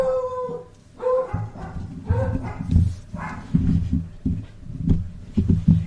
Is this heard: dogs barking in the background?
yes